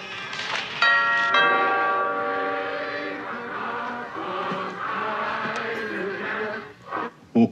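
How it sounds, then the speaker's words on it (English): A bell rings with bright, sustained, overlapping tones during a Christmas service, its chime mingling with a soft musical wash and faint voices before fading. "every time a bell rings, an angel gets his wings"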